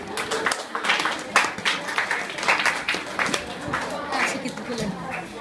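An audience at an Indonesian-language debate competition for junior high schools in Sibolga claps in a loose, scattered round of applause, with voices mixed in.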